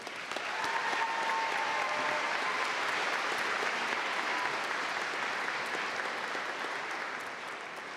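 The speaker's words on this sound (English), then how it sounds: "Please give them a round of applause as well." Steady, dense applause from a large audience at a college commencement, holding at full strength for several seconds before easing slightly at the end.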